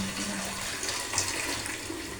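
Water pours steadily into a cooking pot of spiced potato and pea curry base, a continuous close splashing rush with no talk.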